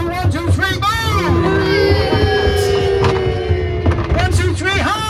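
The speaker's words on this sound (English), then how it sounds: "Should we do a big boo?" Ghost train audience at Exbury shouting a big boo together, a loud crowd roar mixed with cheering and whoops, heard close amid continuous babble and a leading voice.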